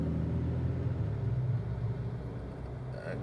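A Porsche engine on the road just ahead of a truck, heard from inside the truck cab as a steady, loud low rumble and drone that holds for a few seconds without pause.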